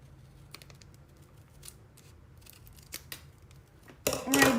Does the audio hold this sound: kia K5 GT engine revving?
no